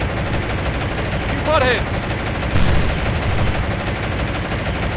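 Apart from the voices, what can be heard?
gunfire attacking battleship in War On The Sea video game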